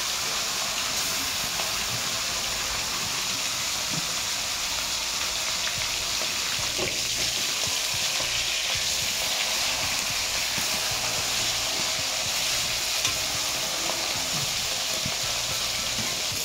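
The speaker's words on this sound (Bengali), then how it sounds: "ভালো করে নুন হলুদ মাখিয়ে নিচ্ছি, ভেজে নিচ্ছি মাছের মাথাটা।" A hilsa fish head rubbed with turmeric and salt fries in hot oil, giving a constant loud sizzling hiss with faint crackles, steady from start to finish.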